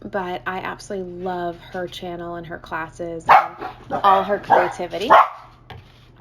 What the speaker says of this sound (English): I apologize for the dogs barking